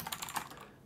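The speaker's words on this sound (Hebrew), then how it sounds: "אז בואו ננסה להקליד עליה קצת," A quick run of close, clicky keystrokes on an Alfawise V1 mechanical keyboard, several rapid clacks fading out after half a second, with no voices.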